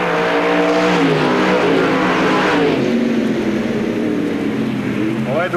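Race cars roaring around a dirt track at Knox County Raceway, loud engines droning and shifting pitch as they pass, with an announcer talking over the racing.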